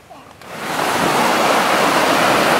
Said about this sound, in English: Wow, some big waves coming in.